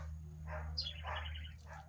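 Several dogs bark in a few faint, distant bursts over a low background hum, with short gaps between the barks.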